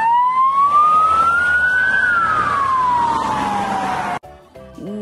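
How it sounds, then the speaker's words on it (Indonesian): A loud wailing siren rises and falls in a long sweeping tone, close by, then cuts off abruptly, leaving a faint horn-like tone. "Wih, ada mobil ambulan."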